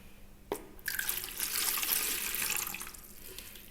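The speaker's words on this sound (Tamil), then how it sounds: "அந்த தண்ணி வந்து இதில் ஆட் பண்ணிடலாம்" About 250 ml of water poured into a wide bowl for homemade dishwash bar mixing, a close, steady splashing stream after a brief knock that runs for a few seconds and then tapers off.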